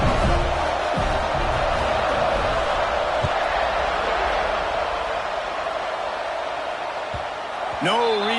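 Football stadium crowd at kickoff after an extra point, a sustained loud roar that hangs steady, mixed with broadcast commentary.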